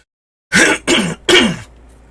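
A male streamer clears his throat three times in quick succession, each a close, harsh rasping burst about a quarter second long, separated by short pauses, in an otherwise quiet room.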